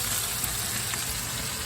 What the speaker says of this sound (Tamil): அந்த பொடலங்காவை ஆட் பண்ணிவிட்டு எல்லாத்தையும் சேர்த்து நல்லா ஸ்டர் பண்ணி விட்ருங்க. ஸ்டர் ஃப்ரை